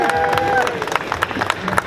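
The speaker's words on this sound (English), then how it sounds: "A big applause for my dad." Brief clapping and crowd noise at the IPCPR 2017 cigar trade show, a scattered round of applause for a company founder mixed with murmuring voices.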